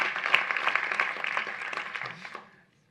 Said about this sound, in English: why don't we give them a round of applause just for getting here today